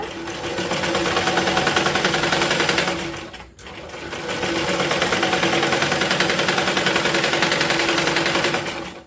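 A sewing machine stitches old cloth into a jute-style bag, running in fast, even rattling bursts, pausing briefly once before resuming at full speed, loud and close.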